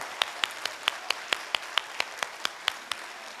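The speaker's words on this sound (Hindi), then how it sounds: "लगातार ताली बजनी चाहिए सर।" Audience clapping in unison at an RCM business meeting, sharp claps falling in a steady, evenly spaced rhythm, moderately loud and close, with no other sound over them.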